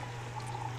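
Water pours into a cup in the Pojang Macha Korean street food simulator game, a short, steady trickle at moderate level over a constant low hum, with no talk.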